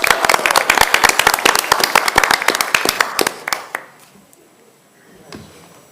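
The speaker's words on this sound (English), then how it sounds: "Help me give him a round of applause" An audience at a city council business meeting claps for a youth award recipient, a burst of sharp, fairly close hand claps lasting about three seconds before quickly dying away to quiet room tone.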